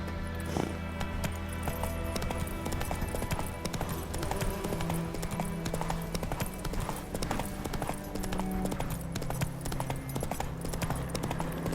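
Roach, Geralt's horse in The Witcher 3, trots with steady rhythmic clip-clop hoofbeats close by, continuous across the whole stretch over a bed of ambient game music.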